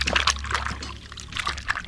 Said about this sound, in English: so I do some lime juice to wash them off